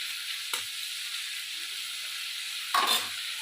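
Prawns fry lightly in mustard oil, a constant crisp sizzle broken by two short bursts of stirring or turning in the pan, close and moderately loud with no voices.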